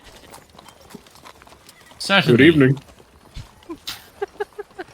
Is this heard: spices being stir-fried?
no